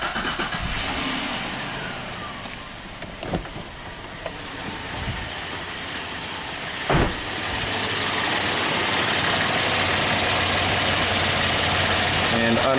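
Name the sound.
car engine starting and idling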